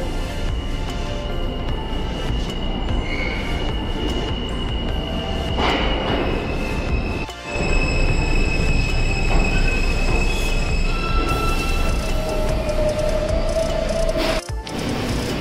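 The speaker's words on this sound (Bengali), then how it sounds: "তো ওই যে আমার ট্রেন আসছে, এফ ট্রেন।" An F train pulls into a New York subway station in Brooklyn, its wheels squealing loudly with sustained metallic screeches over a heavy rumbling roar, no voices heard.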